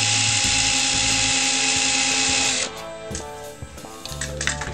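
A high-pitched electric drill whines steadily boring into wood over scrap wood, then cuts off into clattering and scraping noises, close by.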